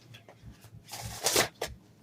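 Close-up riffling and sliding of a deck of tarot cards being shuffled, a few soft swishes building to a louder flurry.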